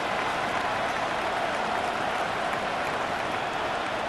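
Stadium crowd roar in the Madden 26 football game during a Rams vs Bears playoff matchup, a steady, loud, hissing wall of cheering that holds without a break, with no voices standing out.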